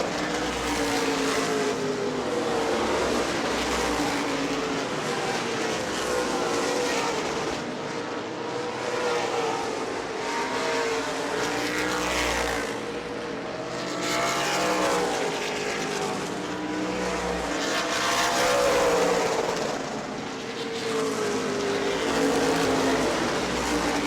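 Race cars roar side by side in a close battle at New Smyrna Speedway, with loud sustained engine drones rising and falling in pitch as they pass and hold throttle, no talk.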